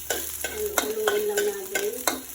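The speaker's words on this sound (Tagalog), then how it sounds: "Tapos, lagyan natin itong bawang." Garlic sizzles in hot cooking oil in a pan as it is stirred, a steady close frying hiss broken by repeated sharp scraping strokes of the utensil.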